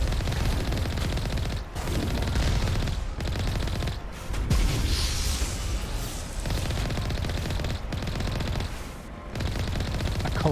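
Vehicle combat in Mass Effect 1: dense, loud, continuous game gunfire and rocket blasts with repeated sharp bursts and short gaps, no talk.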